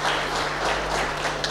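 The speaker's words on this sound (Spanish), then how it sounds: "Así que un aplauso a Juan" An audience applauds a speaker at a university talk, a dense, even burst of many hands clapping close and steady throughout.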